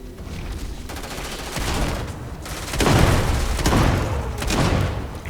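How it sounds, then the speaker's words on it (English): Explosive shotgun blasts in the video game Starfield: several heavy, booming bursts land in quick succession, each rolling out with a loud, rumbling tail over a dense background of game noise. "Explosive shotgun, my man."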